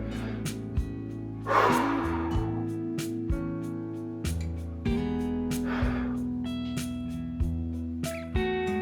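Two deep, breathy exhalations during a hip stretching workout rise over steady background music, each a soft rushing puff spaced a few seconds apart.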